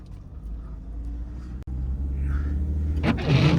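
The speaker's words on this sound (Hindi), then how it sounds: "और भाई अब आने लगी चढ़ाइयाँ और गाड़ी की निकलती है जान" Car engine labouring on a snowy uphill mountain road on the Manali to Leh Ladakh route, a steady low rumble that builds slightly toward the end, with a brief dropout midway and a sharper rise near the finish.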